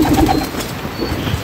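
Pigeons cooing near a loft, several soft, low throaty coos in quick succession, close and clear over faint background noise, with nobody speaking.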